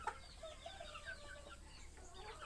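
Chickens cluck in a coop on a Thai buffalo farm, a busy flock of close, overlapping clucks and short calls over a steady low farmyard rumble, with no talking.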